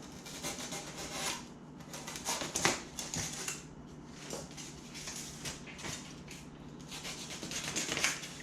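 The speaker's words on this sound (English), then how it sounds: "I got to sand this piece down" Styrofoam being sanded down by hand for a homemade 10 ft fishing kayak, with soft, quiet, irregular rubbing strokes close up.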